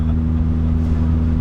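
A turbocharged Mazda Miata engine bounces off the rev limiter, a loud, steady, close droning buzz with a strong low hum that holds without a break and has no talk over it.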